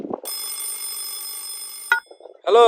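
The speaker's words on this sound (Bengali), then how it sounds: "ভাই আপনার ফোন আইছে।" A mobile phone rings loudly and steadily for nearly two seconds with a bright electronic tone, then stops as a voice answers.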